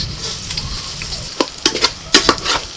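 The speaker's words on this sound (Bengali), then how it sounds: "এবার দিয়ে দিচ্ছি আমি দু থেকে তিন চামচ ঘি তেজপাতা এলাচ দারচিনি লবঙ্গ মাখিয়ে রাখা চালটা দিয়ে দিচ্ছি" Marinated rice goes into hot ghee with bay leaf, cardamom, cinnamon and cloves, sizzling steadily, with sharp clinks and scraping stirs of a utensil against the pot toward the end.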